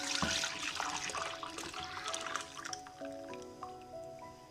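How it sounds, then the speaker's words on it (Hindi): Milk pours into a clay pot for homemade yogurt, a close splashing gush that fades into trickling and dripping. "अब इसको हमने मिट्टी को बोल लिया, इसके अंदर हम ये दूध डालेंगे।"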